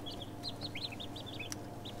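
Young ducklings and chicks at a feeder give a steady run of high, short peeping calls, some overlapping, over a low background hum, with no talking.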